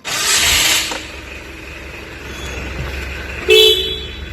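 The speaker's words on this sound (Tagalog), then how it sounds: "So that's the horn," A 2008 Mitsubishi Adventure 2.5 diesel's horn honks twice, first a longer blast, then a short toot a few seconds later, loud and close over a low idling engine.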